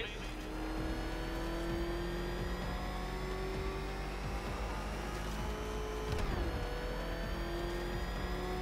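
The Batmobile's engine in Batman Arkham Knight drones at a steady, loud roar with a shifting pitch and a brief surge around six seconds, while a voice talks over it.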